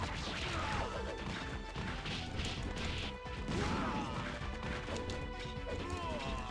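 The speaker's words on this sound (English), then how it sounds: "It is very satisfying slamming those guys into the ground, though." Heavy crashing and thudding impacts pound over busy game effects, repeated slams and whacks layered with whooshes and scattered voices.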